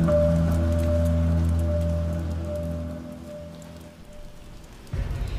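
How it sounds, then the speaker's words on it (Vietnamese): Rain falls steadily inside a run-down building with broken windows, water landing on the floor, a continuous close hiss under a low steady hum that thins out before a brief louder patch at the end. "Bạn có thể thấy nước mưa trên sàn nhà."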